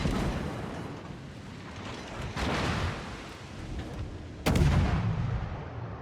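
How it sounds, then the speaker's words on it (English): Z-46 destroyer guns firing in World of Warships: a few heavy booming salvos over a continuous rumbling game background, with the loudest blast near the end. "so I went ahead and fired guns, hoping that he would bring his nose back around"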